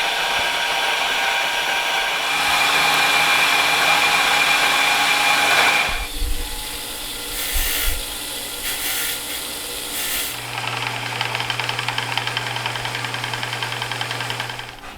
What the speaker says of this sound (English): now I got to cut a slot for my depth stop